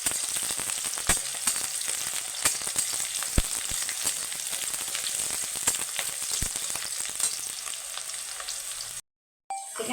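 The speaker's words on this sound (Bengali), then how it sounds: "এবার ভালো করে তেলে একদম ভেজে নেব" Three green chillies frying in hot oil in a home Bengali kitchen, a steady loud sizzle with crackling pops throughout that cuts off abruptly for a moment near the end.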